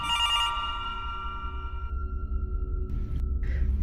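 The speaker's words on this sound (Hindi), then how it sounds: "जब उसका फ़ोन रिंग हुआ" Telephone ringing effect in a Hindi horror story narration: a bright electronic ring with sustained tonal notes that fades and changes, then a short final chirp over a low background hum. The sound is faint and no one speaks.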